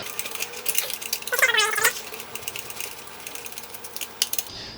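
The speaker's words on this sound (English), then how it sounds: "Now just go ahead and try to remove these screws." A screwdriver backs screws out of the casing of a Breville BCG400 coffee grinder, giving close ratcheting clicks and a brief squeaky turn.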